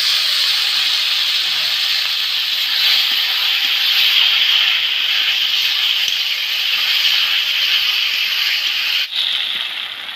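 Pigeon meat fries in hot oil with garlic and onions, giving a loud, steady, close sizzling hiss that barely changes for the whole stretch and drops briefly near the end; no one speaks.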